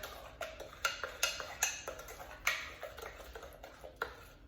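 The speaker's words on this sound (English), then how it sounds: "now I'm going to mix this, and you just mix it until it's just mixed" Brownie batter with eggs being mixed in a bowl, a series of light clinks and taps from a utensil against the bowl, quiet and close, with no talking.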